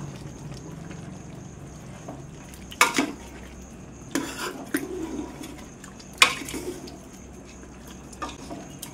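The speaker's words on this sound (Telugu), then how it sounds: "ఇవంతా ఒకసారి కలిపేసుకుందాం" A spoon stirring broiler chicken gravy curry in a metal pot, a few scattered clanks and scrapes against the pot rim over a quiet background hiss, close by, with no talking.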